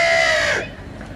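A person imitates a crow call with one loud, harsh, drawn-out vocal caw that fades after about half a second, close and alone, at an outdoor country game fair.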